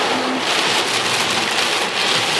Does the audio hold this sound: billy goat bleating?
no